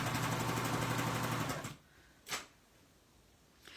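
Serger and coverstitch machine stitching fabric, a loud fast steady mechanical chatter that runs for about a second and a half and then stops, followed by a couple of brief clicks and knocks.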